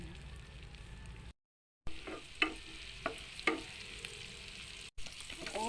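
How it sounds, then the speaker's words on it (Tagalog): Butter sizzling in a pan while chicken menudo is cooked, a soft steady crackle with scattered sharper pops and stirring scrapes, close and fairly quiet, broken by a brief silent gap. "lalagay muna tayo ng butter"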